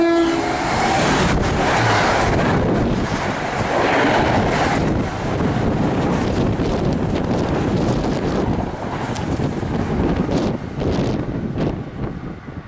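An NJ Transit Arrow III train roars past Rahway Station at close range, loud and continuous with rattling wagons, a horn near the start and heavy wind buffeting the microphone.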